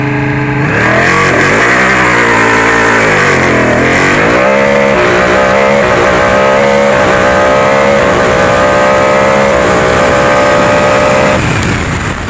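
Rally car engine heard from the onboard camera on the Mont d'Or stage, a loud, continuous roar that climbs and falls with revs and gear changes for the whole stretch.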